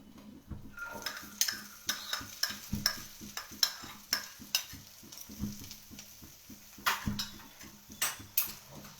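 Green gram (moong) frying in hot oil in a pan, a faint sizzle beneath a steady run of sharp scraping and tapping strokes as the grains are stirred, fairly close and without talk.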